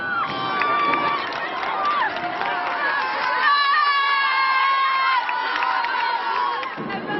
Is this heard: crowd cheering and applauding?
yes